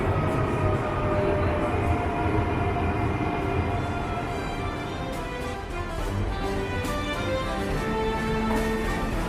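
A train rumbles steadily through Metz railway station, with continuous loud wheel and motor noise and faint squealing tones layered over it.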